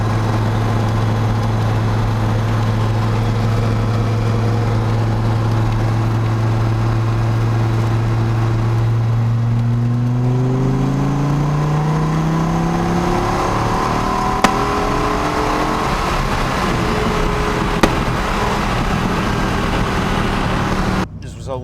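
A Dodge Viper with 121K miles, cruising on a Saturday night, accelerating hard in third gear: a loud, steady engine drone climbs smoothly in pitch for several seconds, settling into a higher whine with road noise, ending in a brief clunk.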